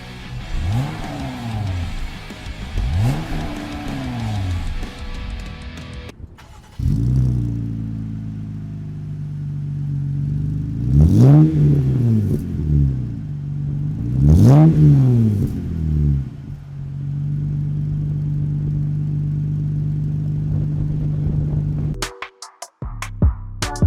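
A lifted GMC pickup truck fitted with an aftermarket exhaust revs up several times, each rise and fall sweeping loudly over a steady, fairly smooth idle that settles between the bursts before cutting off.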